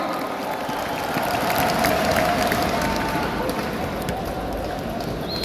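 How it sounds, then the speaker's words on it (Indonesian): Crowd of supporters at a political rally for Airin Rachmi Diany in Banten applauding and cheering, a dense steady roar of claps and voices that holds throughout. "Tepuk tangan yang meriah untuk kita semua"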